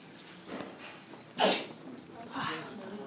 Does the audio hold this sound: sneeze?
yes